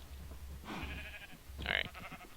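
Minecraft cows in a hardcore survival world low and bleating from close by, two drawn-out calls with a louder, brighter second one over a steady low rumble.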